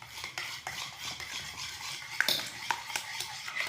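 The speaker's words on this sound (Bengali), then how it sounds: "এবার এই সব কিছু একটু ভালো করে মিশিয়ে নেব।" Mashed ripe banana, two eggs and powdered sugar whisked in a bowl for banana cake batter, making close, rhythmic scraping and clinking strokes with no talking.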